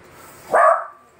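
A single sharp dog bark rings out near the middle, loud and close, fading quickly into quiet.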